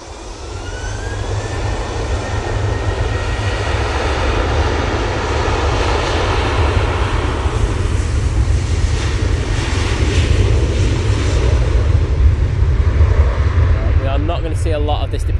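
A Ryanair jet airliner departs Manchester Airport, its engines giving a broad, steady roar that builds slightly and holds strong throughout, heard from the ground at a distance.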